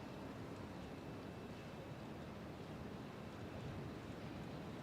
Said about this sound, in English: And it's getting windy.